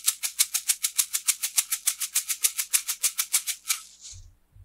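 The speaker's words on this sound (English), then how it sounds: "You might have a tube shaker made out of plastic." A plastic tube shaker rattles in a steady rhythm of about twenty quick, evenly spaced shakes, close and bright, ending with a short fading swish and a couple of low thumps.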